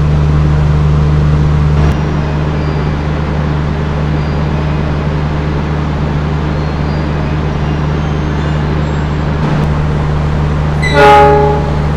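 The Bogowonto train from Lempuyangan to Pasar Senen pulls into Kroya station on Java, a loud steady low locomotive rumble throughout, with a brief horn blast near the end.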